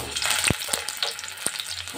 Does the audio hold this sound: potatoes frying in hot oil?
yes